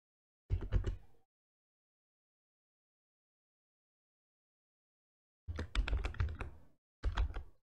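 Typing on a computer keyboard comes in close, crisp bursts of rapid keystrokes: one short flurry, a long silence, then two more quick runs of clicks.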